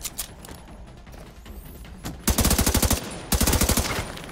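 Gunfire in the tactical shooter The Division 2: scattered single shots at first, then two loud rapid automatic bursts close by, about a second each, with no voices.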